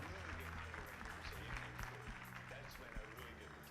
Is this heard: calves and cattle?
no